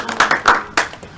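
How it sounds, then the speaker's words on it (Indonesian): Brief burst of hand clapping from a classroom audience, a few loud sharp claps in an uneven rhythm that fade out within a second. "Tepuk tangan dong."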